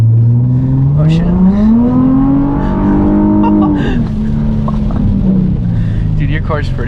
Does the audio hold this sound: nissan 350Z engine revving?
yes